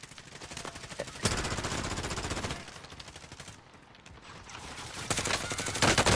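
Rapid automatic gunfire in a Call of Duty match, dense continuous bursts that swell and ease over several seconds, loud and close, with no talk over it.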